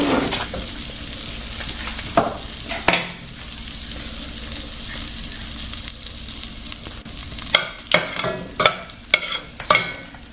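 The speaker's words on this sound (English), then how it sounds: "To the same pan I am adding about 2 tablespoons of butter" About two tablespoons of unsalted butter melt and sizzle in a hot pan for butter chicken masala, a loud, dense frying hiss throughout, with a few stirring scrapes and knocks toward the end, no voices.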